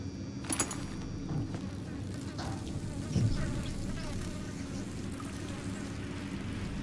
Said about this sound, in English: I'm hearing a buzzing noise. Where the hell is it?